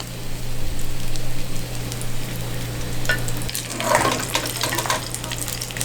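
Shrimp fry in oil in a pan for a homemade garlic ramen, a close, loud, dense sizzle running throughout, with a burst of crackling spatter near the end as they are stirred; no talking.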